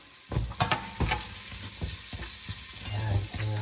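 Ginger drops into a pan of hot oil for chicken tinola, bursting into close sizzling and frying with repeated scraping stirs and clatters, the hiss swelling toward the end; no talk.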